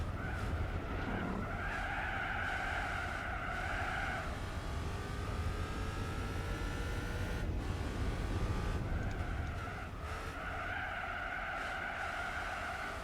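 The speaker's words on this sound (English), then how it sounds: "It's got the Busso V6 in it. One of the other best sounding V6 engines ever made." A Busso V6-engined car races in Gran Turismo 4, its engine droning steadily while tires squeal and skid almost continuously through corners at a moderate level.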